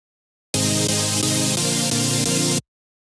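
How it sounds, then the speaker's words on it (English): A Serum synth chord built from two sawtooth waves, a bright, buzzy sustained block of sound playing a melodic chord progression for about two seconds, starting and stopping abruptly, loud and alone. "We have here this main serum synth sound"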